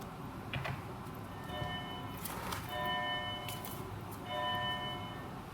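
Church bells ring in a few spaced, resonant strikes whose tones hang and fade over a steady background hiss, heard fairly faintly from a distance.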